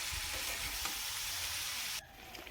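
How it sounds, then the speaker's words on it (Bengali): Cauliflower and potatoes with spices fry in a hot pan with a dense, steady sizzle and crackle that drops to a softer hiss near the end, close and with no voices. "পেঁয়াজ আর একটু আদা পেস্ট দিয়ে এবার ভালো করে ভেজে নেব"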